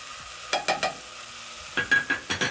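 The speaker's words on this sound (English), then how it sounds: "Stir in the tomatoes." Tomatoes are stirred in a cooking pot, giving two short groups of scraping, sizzling strokes, three then four quick swishes, against a low background of frying.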